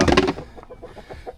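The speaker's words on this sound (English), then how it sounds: "I'm pretty sure that's a rooster." A rooster gives one loud, harsh cluck up close, followed by a few quieter, soft clucks trailing off over about a second.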